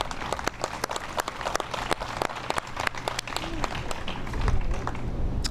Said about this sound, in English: So let's give a round of applause to Bruce and to Flyball.